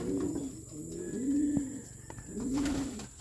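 Racing pigeons in a loft coo in repeated low throaty phrases, three rolling calls close by with a soft hum of background noise between them, no speech.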